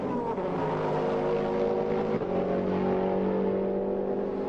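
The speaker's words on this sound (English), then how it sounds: "the Mercedes noticeably quick in a straight line, cresting the rise there as you come down to the braking area" 1999 Mercedes CLR race car at Le Mans, flat out down the straight: a loud, sustained engine roar at high revs with a brief shift midway, steady and close.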